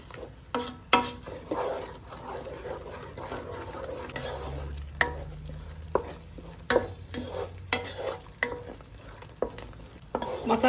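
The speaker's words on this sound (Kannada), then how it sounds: "ಕಾಯಿ ಮಸಾಲೆ ಹಾಕ್ತಾ ಇದ್ದೀನಿ" Ground coconut masala paste with ginger-garlic paste frying in a pan for a mutton kheema ball curry, a steady close sizzle broken by repeated sharp scrapes and knocks of a spoon stirring against the pan.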